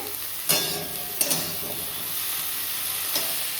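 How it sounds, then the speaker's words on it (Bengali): Cauliflower florets fry in an oiled pan with a steady soft sizzle, joined by a few sharp scrapes and stirring clicks near the start and again near the end. "ফুলকপি ভাজা হচ্ছে"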